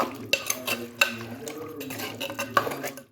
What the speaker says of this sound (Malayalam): ഇനി ഒന്ന് ഇളക്കി കൊടുക്കാം